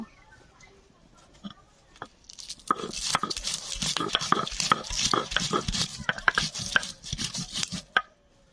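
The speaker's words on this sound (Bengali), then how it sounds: "এখন কয়েকটা কাঁচা লঙ্কা বেটে নেব" Green chillies ground by hand on a grinding stone make close, rhythmic rough scraping and crunching strokes that build after a quiet start and carry on steadily to the end.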